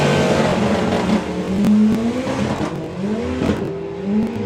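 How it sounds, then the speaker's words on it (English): Chris Todd's Fiesta-Roo, a 4-cylinder drag racing car, making its run: a sharp engine note climbing through repeated gear-change surges, loud and close with no talk. "first run of the weekend for Chris Todd with the Fiesta-Roo"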